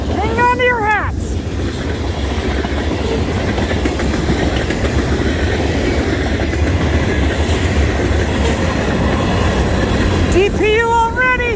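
CN 3308 freight train, the Rattler M347, rumbles past at close range with steady loud wheel and car noise throughout, horn blasts sounding near the start and again at the end.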